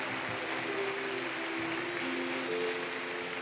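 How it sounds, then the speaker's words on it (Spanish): A church congregation claps loudly and steadily together after a sermon prayer, a continuous dense wash of applause filling the hall with no pauses. "Vamos a aplaudirle bien fuerte."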